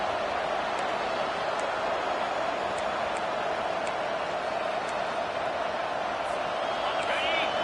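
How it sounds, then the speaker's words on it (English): A large stadium crowd at a college football game roars in a steady, sustained wall of noise, with occasional sharp whistles cutting through. "Listen to this crowd just shaking the girders of this place, trying to help their defense."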